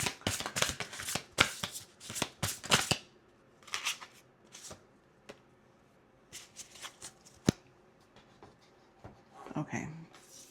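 Wild Muse Oracle cards shuffled by hand in quick bursts of riffling and slapping, loud and close at first, then thinning out into scattered softer flicks and taps with brief pauses between them.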